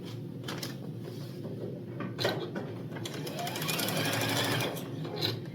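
A sewing machine stitching quilt section pieces together, running in a fast, rattling stream of needle strokes close by, with slight pauses and speed changes along the seam.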